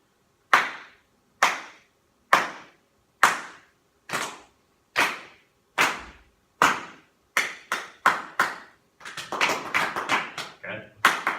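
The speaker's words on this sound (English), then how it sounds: "So I'm going to clap." Crisp hand claps in a steady, even pulse, around ten slow beats, then quicker claps close together toward the end, loud and nearby.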